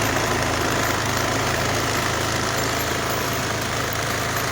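An inverter generator runs in economy mode with a steady, fairly quiet idling drone and a faint low knocking pulse. It holds an even level throughout, with no talk over it.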